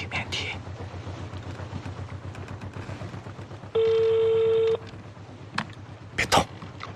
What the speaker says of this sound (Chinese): 我给阮真真打个电话